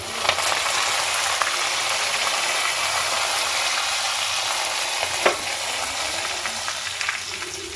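Garlic and curry leaves sizzle in hot oil for a tempering, a steady close-up frying hiss that runs unbroken throughout, with a few faint clicks and one brief knock near the end.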